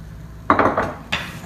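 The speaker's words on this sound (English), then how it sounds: "Now you mix the cinnamon and the brown sugar." A spoon scrapes and clinks against a bowl while cinnamon and brown sugar are mixed for cinnamon buns, several short close knocks and scrapes in quick succession, then one more clink after a pause.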